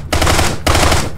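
Gunfire at a tank in the game Brick Rigs: two loud, close bursts of rapid machine-gun fire, each a dense rattling volley, separated by a brief gap.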